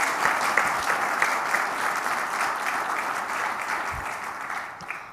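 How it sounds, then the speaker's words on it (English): Audience applause at the close of a conference talk on Netflix's Metaflow data science framework: a dense, steady wash of clapping from a large room that holds evenly for about five seconds, then thins slightly near the end. "Round of applause, please."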